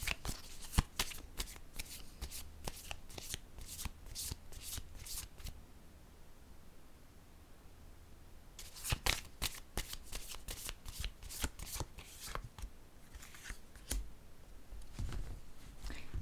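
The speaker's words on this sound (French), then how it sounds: "Je vais piger une autre carte ici. Une carte noire." A deck of oracle cards shuffled by hand, quiet, close riffling and flicking in rapid bursts, pausing for a few seconds midway before resuming.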